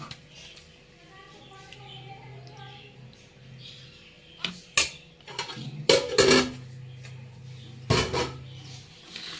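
A spoon knocks and scrapes against a pot while pumpkin curry is stirred, with a few sharp metallic clinks and scrapes and a voice talking through it.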